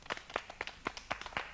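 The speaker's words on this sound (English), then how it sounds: "Simon says to clap your hands" Children's hands clapping during a Simon Says game on a 1985 Australian children's TV show, a quiet, uneven run of separate claps at a fairly steady rhythm, slightly distant and faint.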